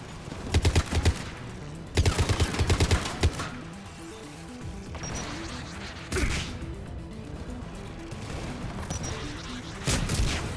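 Bursts of automatic turret gunfire from the video game Mass Effect 3 on the Rannoch mission, rapid rattling volleys in several clusters with sharp impacts between them and no talking.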